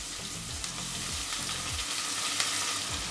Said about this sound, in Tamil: இப்போ கடுகு பொரிய ஆரம்பித்தோன்னா வெங்காயத்தை சேர்த்துக்கலாம்.